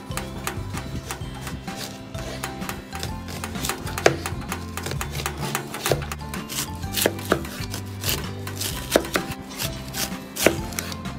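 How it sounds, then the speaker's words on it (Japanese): A knife finely mincing onion on a cutting board, a fast, steady run of close taps continuing throughout, with a few louder knocks, at an outdoor camp during barbecue preparation. "じゃこちらをみじん切りにしていきます"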